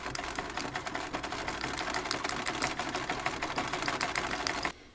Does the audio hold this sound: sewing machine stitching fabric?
yes